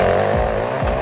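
A garden tiller churning soil and thick tree roots gives a loud, continuous engine drone, with two brief dips in pitch as the tines bog down in the roots.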